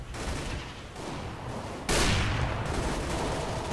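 Gunfire in Counter-Strike: Global Offensive: bursts of rapid shots, with a louder, sharper volley arriving partway through, dense and close.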